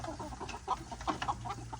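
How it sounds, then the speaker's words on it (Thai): Several young chickens at a rice field give brief, quick clucks in a loose cluster over a low background drone. "พีงามไก่เยอะไก่บ่าว"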